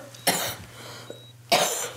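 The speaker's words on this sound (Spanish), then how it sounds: "Es normal que toses" A woman who has swallowed water coughs twice, close and loud, the harsh bursts separated by a brief gasp.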